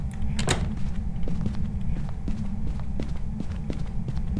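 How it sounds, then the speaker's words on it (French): A door in the Phasmophobia horror game shuts with one sharp knock early on, followed by light, regular ticking steps over a steady low rumble. "On ferme les portes"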